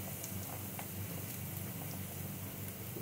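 Onion and capsicum frying in a pan with garlic for pasta, a steady soft sizzle and patter that runs through the whole stretch at low volume, with no talking over it.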